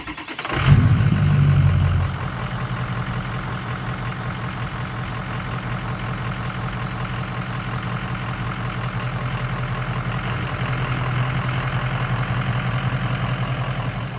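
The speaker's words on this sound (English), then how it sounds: "So I'll go ahead, crank the truck, let it run again, let it sit, and then recheck it." A Ford 6.0 Powerstroke diesel pickup cranks and fires, flares briefly, then settles into a steady, loud, close idle that clatters on for the rest of the stretch.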